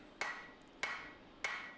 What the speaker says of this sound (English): use the edge of your hammer, the side of your hammer, to create that same fullering technique